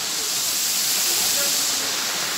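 Çiseli waterfall in Ordu roaring in full flow, a loud, steady, broadband rush of falling water that continues without pause throughout.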